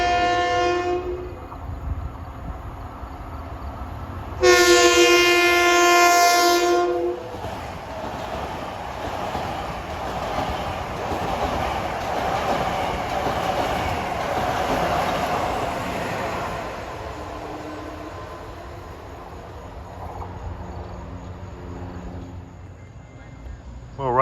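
A Long Island Rail Road M7 electric multiple-unit train passes through Farmingdale station during evening rush hour, its Leslie RS2M horn blasting a loud chord for a couple of seconds, then a steady rumble and rail noise as the cars roll by.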